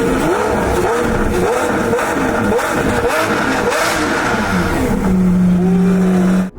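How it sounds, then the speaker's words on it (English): A car engine held in neutral revs hard in a rapid, repeated rise-and-fall pattern, loud and close, ending in a steady high drone before cutting off. "that's how you rev this car when you drive."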